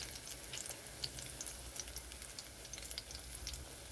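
Small shrimp chops sizzle steadily in hot oil, a soft continuous frying crackle with scattered tiny pops, close and fairly quiet with no talking.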